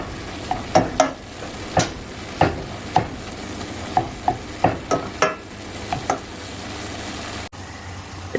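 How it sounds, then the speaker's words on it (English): Chopped garlic is stirred into a low-carb keto lasagna mixture, with a spoon scraping through it in a steady series of close, distinct strokes about every half-second to second, over a faint sizzling background and no voices. "add approximately 1 tablespoon of chopped garlic and then just mix that in"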